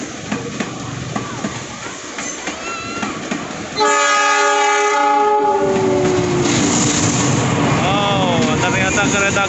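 A locomotive-hauled train rumbles past beneath a flyover at Jatinegara Station, Jakarta, with clattering wheels, then a loud, long horn blast sounds as it goes by close and loud.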